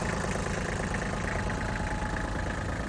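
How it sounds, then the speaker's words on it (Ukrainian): A small 20-horsepower tractor engine idles steadily at close range, a continuous low rumble with a faint knocking pulse and no voices. "Даний трактор на 20 кінських сил з полуавтоматичною коробкою передач"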